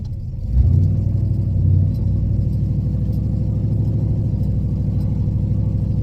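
A 1970 Chevelle engine revs and pulls through its gears while driving, a loud, steady low rumble with a brief surge early on, close and continuous with no talk.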